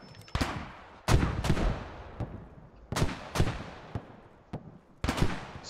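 Rocket launches and gunfire ring out in a Squad military shooter battle, a string of about eight heavy booming blasts at irregular intervals, some near and loud, others more distant, each with a fading rumbling tail.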